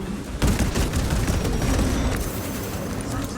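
Grenade blasts and gunfire in Space Marine 2: a sudden heavy explosion followed by a sustained rumbling barrage of fire and crackling debris, loud and close, fading slightly at the end.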